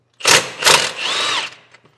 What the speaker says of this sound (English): And I am using impact to get it off. Still think that's the best method.